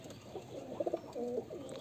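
Pigeon with purple legs and clipped wings cooing softly nearby, a short burst of rolling coos in the middle followed by a longer low coo, over quiet background.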